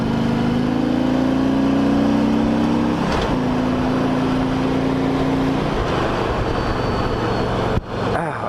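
A 2008 Harley Davidson Ultra Classic motorcycle accelerating to pass another vehicle on a rural road, a loud steady engine drone that rises in pitch, with heavy wind rush throughout.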